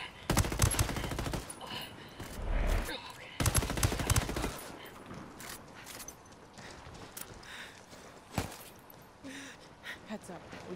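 Heavy video-game gunfire in a military shooter, loud dense bursts of automatic fire in two main volleys early on, then scattered shots and a sharp single blast later, with game chatter and voices underneath.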